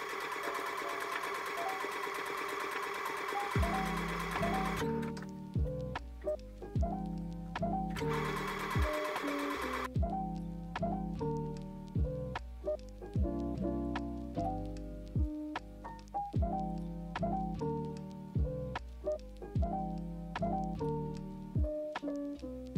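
A sewing machine zigzag-stitches two layers of old bedsheet fabric along the upper edge of a reversible dress bust, running in loud, close, rhythmic bursts that stop and restart several times, with no talking.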